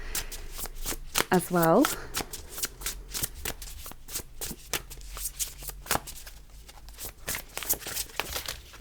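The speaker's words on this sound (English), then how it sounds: "I'm going to pull you just a couple of oracle cards" Oracle cards being shuffled by hand in a rapid, crackling riffle of papery flicks that runs throughout, close and fairly loud, while someone talks over it.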